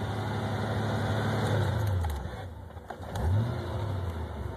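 A car engine with an idle problem runs at a high idle, a steady close hum that dips and then recovers in pitch partway through, with no talking.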